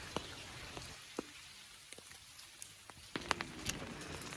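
Light rain drips onto a muddy, waterlogged village road, a quiet hiss broken by a few irregular, faint drop taps that grow slightly busier near the end.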